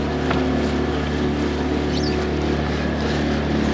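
A hired motorboat cruises on Australian water, its engine giving a steady, loud, continuous drone with wind noise throughout and no talking.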